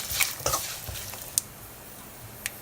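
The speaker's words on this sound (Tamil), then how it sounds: "இப்போ இது எல்லாத்தையுமே நல்லா மிக்ஸ் பண்ணிப்போம்." A spoon stirs lemon rice seasoning in a pan, a few distinct scrapes and taps over a faint sizzle, close and sparse with quiet gaps between strokes.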